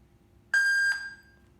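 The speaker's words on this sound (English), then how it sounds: "beep one time means connected successful." A Wifi GSM home security alarm system gives a single bright electronic beep to confirm it has connected, a lone, close tone lasting under half a second with a brief trailing ring.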